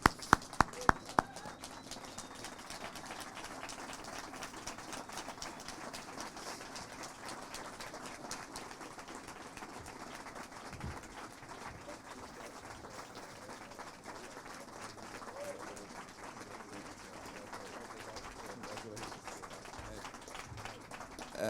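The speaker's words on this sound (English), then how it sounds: "Everybody to your feet, and give Van Jones a big round of applause." A crowd at an awards event on its feet applauding, a sustained, even roar of clapping that runs for about twenty seconds, with a few sharp claps standing out at the very start.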